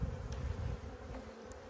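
Honeybees at an apiary of about seventy hives buzz around a feeding cake, a steady, close insect drone lasting under two seconds.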